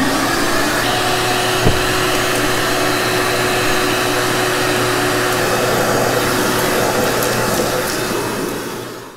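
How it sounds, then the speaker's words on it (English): A shop vacuum roars steadily and loudly while sucking broken glass shards out of a Blackstar Artisan 30 combo amp chassis on a workbench, one continuous drone from start to finish. "I'm gonna lay this on the bench and vacuum all the glass shards out of this"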